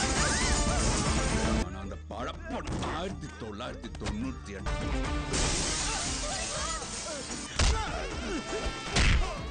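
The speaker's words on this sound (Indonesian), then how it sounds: "Durai mengejar mereka hingga kaca mobil rombongan Niranjana pecah" Car window glass shatters during a violent chase in a Tamil action film, with sharp crashing impacts and smashes layered over a dense music score and a voice narrating throughout.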